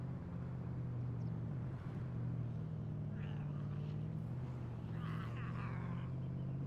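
Ford Raptor truck cruising through a town in DayZ, its engine a constant low hum throughout with faint higher whooshes and rattles mid-drive, and a voice speaking over it at times.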